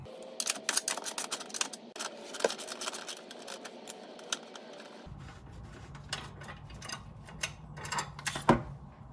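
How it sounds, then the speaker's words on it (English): A ratchet fitted with a 13mm socket and extensions loosens a battery bolt on a Chrysler 200, a rapid run of close metallic clicks in bursts, with a low engine-bay hum joining partway through. "13mm socket to get this bolt out."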